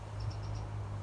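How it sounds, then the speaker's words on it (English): Four faint, short high chirps from a wren repeat quickly over a steady low rumble in a garden. "I can't hear the wren here, but she's normally here"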